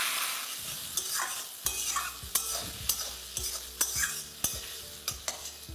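Fried onion with ginger garlic paste stirred in a pan, with sharp spoon scrapes roughly every half second to second over a soft sizzle, close and quiet, no speech.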